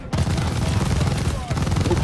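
Sustained automatic gunfire rattles loud and dense in a Call of Duty Vanguard firefight, pausing briefly near the middle before resuming, amid battle noise.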